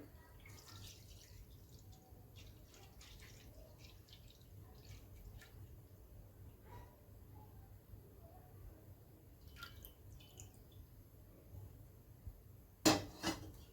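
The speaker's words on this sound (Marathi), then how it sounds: "आता मी दूध ओतून घेते कढईत" Milk poured into a kadhai (wok) on a gas stove that already holds a splash of water: a faint, steady trickle and drip, quiet throughout, with a brief clatter of a pan or utensil near the end.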